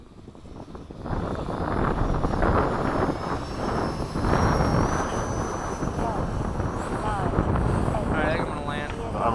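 An FMS 70mm F/A-18 electric ducted-fan RC jet whines overhead with a steady, faintly shifting pitch as it comes in to land, mixed with wind noise and people talking nearby.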